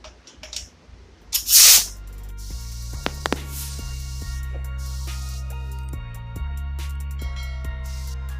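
An Iwata SuperNova airbrush lays down a second coat of paint, its short hissing bursts standing out briefly over a steady low hum, with quieter clicks and taps between passes.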